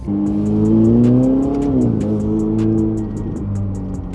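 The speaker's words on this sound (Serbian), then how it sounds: "Samo da spustim malo prozor i da čujem kako prolazimo kroz ove zgrade šta ovaj auto pravi od zvuka." Chipped, Stage 2 tuned Ferrari engine revs hard while driving between buildings, a loud, close roar that climbs in pitch, holds, then drops and tails off, heard with the window down and no talk.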